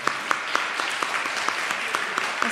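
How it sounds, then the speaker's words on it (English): Audience applause for the musicians at a gathering with poems and a closing hymn, a steady wash of clapping with a few sharp claps standing out, fairly quiet and even throughout. "Let's give a round of applause to all of our musicians today"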